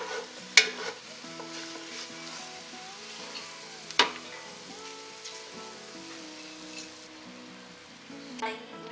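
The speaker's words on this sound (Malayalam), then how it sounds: "ഉള്ളി നല്ല പാകത്തിന് പൊരിഞ്ഞു വന്നിട്ടുണ്ട്. അതിനെ എണ്ണയിൽ നിന്ന് മാറ്റിയെടുക്കാം." Onions frying in oil for a hotel-style egg-laying-hen chicken dum biryani, with a soft steady sizzle and occasional sharp clinks and scrapes of a utensil against the pan.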